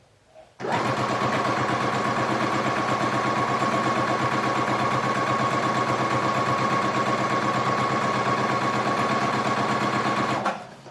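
A sewing machine stitching fabric for a homemade rice heating pad, starting abruptly and then running as a loud, continuous, even mechanical whir for about ten seconds before stopping.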